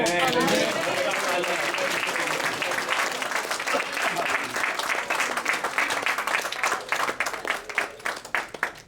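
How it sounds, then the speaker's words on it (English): A church congregation claps in praise during a Passion Week service, loud rapid applause that gradually thins into scattered individual claps, with voices mixed in. "Lift up your both hands and give Jesus a clap offering"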